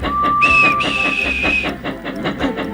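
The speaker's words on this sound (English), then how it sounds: "And he blew his whistle." Whistle of a steam engine: a bright, sustained tone that jumps to a higher pitch midway, sounding over rhythmic puffing chuffs that carry on beneath and after it.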